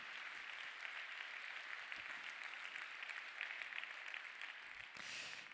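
An audience at the closing ceremony of the 47th Cinémed film festival applauds documentary filmmakers, a faint, continuous patter of many hands clapping from a distance.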